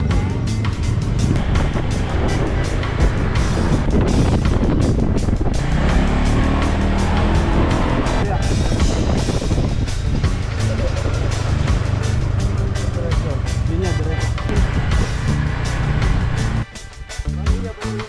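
Motorcycle engine drones loud and continuous while riding, with wind rush and road noise throughout and voices talking over it, then a brief drop near the end.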